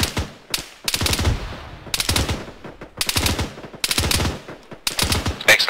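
Bursts of automatic gunfire in a nighttime firefight, five or six loud, close rattling volleys separated by brief gaps, with no talking over them.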